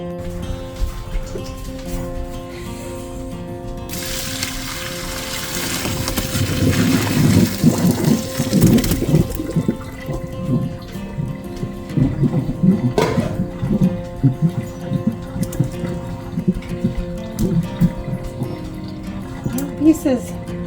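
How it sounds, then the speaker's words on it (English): Boiled cauliflower drained into a sink, with a strong rush of pouring water for several seconds followed by lighter splashes and trickling, and a voice talking over it. "So I'm gonna drain the cauliflower."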